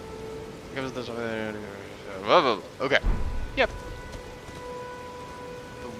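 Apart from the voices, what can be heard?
rain falling in the video game Elden Ring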